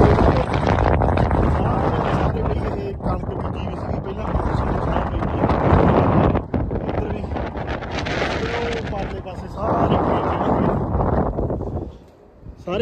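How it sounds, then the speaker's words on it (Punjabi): Strong wind gusting across open wheat fields in a cold, high-wind setting, a loud, continuous buffeting roar against the microphone that swells and eases, with a brief lull near the end. "ਹਵਾ ਬੜੀ ਤੇਜ਼ ਚੱਲਦੀ ਹੈ"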